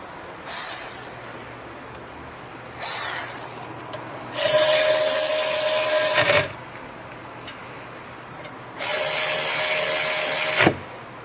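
Brake caliper bolts on a rear brake of a tenth-generation Honda Accord are snugged down with a ratchet. Bursts of ratcheting clicks and rubbing come in uneven spells, two of them longer and louder, close by, with no talk.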